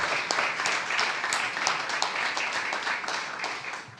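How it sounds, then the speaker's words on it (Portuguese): Congregation in a church gives a round of applause, a moderate, continuous patter of many hands clapping with scattered sharper claps, fairly distant and steady. "Mais palmas a ele, por favor"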